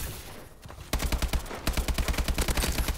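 An AK-12 rifle fires in Call of Duty: Advanced Warfare in two close, loud full-auto bursts of evenly spaced shots, the second burst longer, with a short gap between them.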